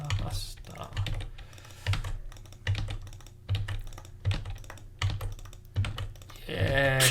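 Rapid clicking on a computer keyboard in bursts of typing with brief pauses, close and crisp; a voice talks faintly underneath at points.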